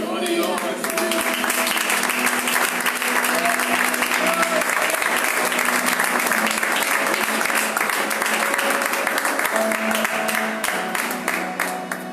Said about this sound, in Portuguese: As palmas que louvam o nome do Senhor.